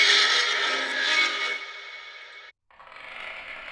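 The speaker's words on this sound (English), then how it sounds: "Let's see, metal scrape." A harsh metallic scraping grinds on, fading, then cuts out briefly before a thinner scrape resumes.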